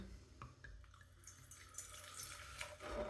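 El Gaitero Spanish cider being poured, a short burst of splashing, fizzing liquid that grows brighter and louder toward the end, close and alone.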